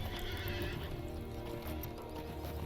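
A horse in the video game LOTRO whinnies over steady clip-clop hoofbeats, the neigh fairly loud and close for the clip's short length.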